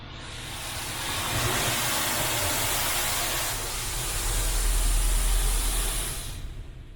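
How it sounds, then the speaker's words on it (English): A touchless automatic car wash runs around a Jeep, its high-pressure spray producing a steady broad hiss and rush that swells and eases, with low rumbling surges partway through, heard from inside the vehicle. "In the car wash, and the robot is starting to run."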